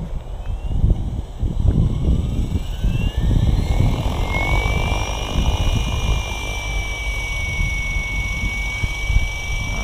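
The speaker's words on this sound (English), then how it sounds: "go ahead and spool up" An Align Trex 760X RC helicopter spools up nearby, loud rotor chop and motor whine climbing steadily in pitch and settling into a sustained high tone, with no talking.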